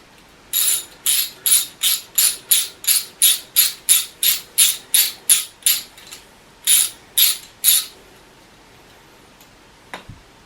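A ratcheting clamp being tightened on an air hose fitting for a homemade tire inflation and deflation rig: a rapid run of about fifteen sharp, evenly spaced clicks, a brief pause, then three more clicks, close and crisp with no talking.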